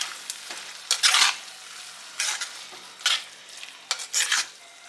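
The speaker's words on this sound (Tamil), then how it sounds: "தக்காளியெல்லாம் வதங்கிறதுக்கு முன்னாடி ப்ரானையும் சேர்த்து இதோட ஆட் பண்ணி வதக்கி விட்டோம்" Prawns and tomatoes sauté in a pan, giving sizzling bursts and scraping stirs that come in irregular, closely spaced strokes, each one short and crisp with quiet frying in between.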